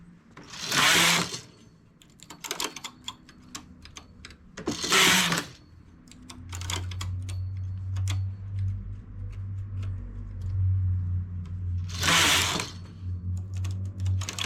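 A knitting machine works a baby cardigan. Several loud, sweeping carriage passes rush across the bed, separated by sharp clicks and ticks of needles and levers being set, and a low motor-like hum runs through the latter half, close and without speech.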